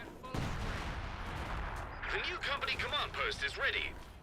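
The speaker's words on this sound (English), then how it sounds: "I hear a base artillery" Base artillery in the strategy game Company of Heroes 2 booms in the distance under a continuous rumble of battle, while a commentator talks over the second half.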